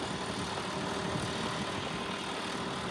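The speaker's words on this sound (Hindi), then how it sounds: "इस वजह से इसमें आराम से चल रहा है ट्रैक्टर" A tractor ploughing a field gives off a faint, continuous engine drone that holds an even, unbroken level throughout, with no voices.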